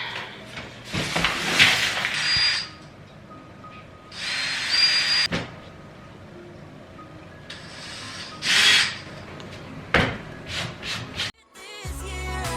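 Stain being rubbed by hand onto a wooden dining table top, several separate bursts of brushing, rubbing strokes with quiet gaps between them, and a brief different sound right at the end.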